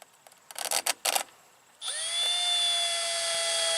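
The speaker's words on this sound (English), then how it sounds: "Screw your discharge hood in place." A power drill drives screws to fix a radon fan discharge hood in place, first a few short bursts, then a sustained high whine from the motor, close and steady.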